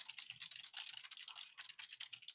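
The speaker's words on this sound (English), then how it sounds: "I got my handy dandy Logitech keyboard, and I'm gonna just start typing" Someone types on a Logitech computer keyboard in a home office, producing a quick, continuous patter of soft key clicks that stands alone with no talking.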